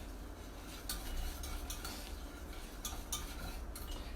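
Béchamel sauce being whisked in a pot, a steady run of soft scraping and clinking strokes against the metal, close and moderately quiet, with no talking.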